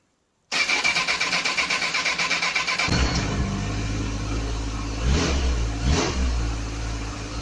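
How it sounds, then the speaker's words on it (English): A motorbike that has sat unstarted for a few weeks cranks on its Leoch battery with quick, rhythmic turning, then catches and settles into a running engine, revving up twice near the end. "Let's have a look to see if the bike starts"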